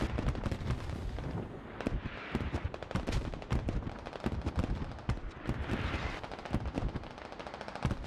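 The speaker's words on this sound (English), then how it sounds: "And here comes the second barrage." Artillery barrage in the military shooter game Squad: a dense, continuous run of rapid blasts and rumbling impacts, loud and close, with no pauses across the stretch.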